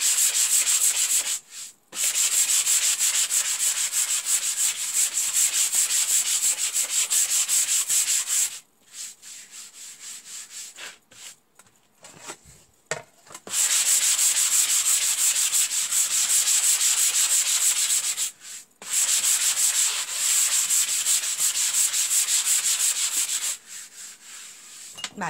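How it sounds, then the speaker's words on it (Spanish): Light hand sanding of wood freshly painted in a Nordic chalk-style colour, a steady close scratchy rubbing in long strokes broken by several short pauses, with no talking. "una lijarita suave"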